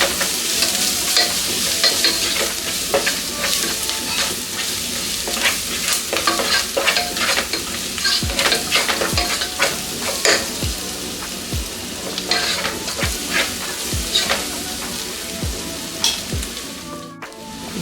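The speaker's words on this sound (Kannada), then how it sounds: "ಎಲ್ಲ ಹಾಕೊಂಡು ಮಿಕ್ಸ್ ಮಾಡ್ಕೊಳ್ಳೋಣ" Green beans with garam masala, turmeric and salt are stirred in a sizzling frying pan, a spoon scraping and clinking repeatedly against the pan over a continuous close frying hiss, with no voices.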